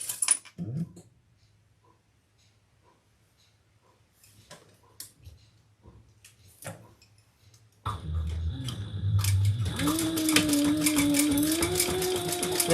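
A sewing machine basting the lining of a waist pack starts up after a quiet stretch of faint handling clicks, then runs steadily and loudly at close range to the end.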